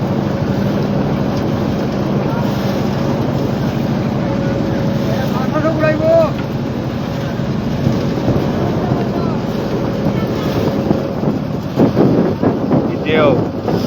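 Trawler boat engine droning steadily on the open haor near Sylhet, buffeted by heavy wind noise and wave wash throughout, with a voice talking over it.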